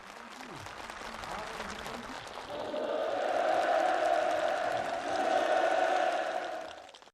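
Participants at a new-housing move-in ceremony in North Pyongan Province clap warmly, the applause swelling into a dense, steady wash with crowd voices mixed in before cutting off abruptly.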